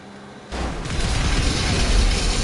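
An explosion during a vehicle fight in GTA V Online: a sudden loud boom after a short quiet moment, followed by a sustained roaring, crackling rumble that fills the rest of the moment, with no talk.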